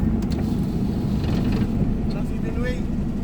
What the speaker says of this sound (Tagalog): Arangkada na ako ngayon, ha? Naka-primera low ako.